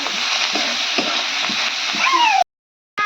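Cauliflower for Odisha-style cauliflower chilli is stirred in a hot frying pan, with loud sizzling and rhythmic scraping strokes of the spatula close up, before the sound cuts out abruptly.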